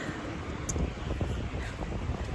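Strong wind roars steadily against the microphone outdoors, a continuous loud rumble with gusty low buffeting and no speech.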